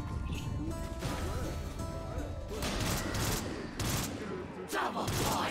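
Weapons fire rapidly at gongs in a Black Ops 3 Zombies custom map. The shots come as a dense volley with sharp repeated cracks over game noise and music.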